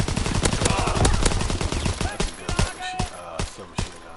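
Rapid submachine gun bursts from a PS4 war shooter, loud and close, with sharp repeated shots clustered through the clip and some background game sound between volleys.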